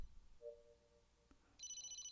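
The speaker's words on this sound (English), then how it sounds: "better answer the phone" A telephone rings softly in a quiet room, one short electronic tone followed by a higher trilling ring, with nobody talking.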